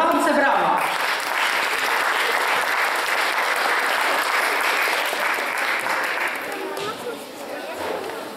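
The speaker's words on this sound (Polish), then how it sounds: "tym bardziej gorące brawa" Sustained audience applause at a concert performance of Carnival of the Animals, dense clapping filling the whole stretch and easing slightly toward the end.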